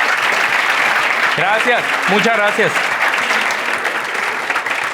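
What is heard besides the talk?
audience applause at university event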